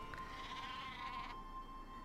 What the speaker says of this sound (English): Sheep! Aww.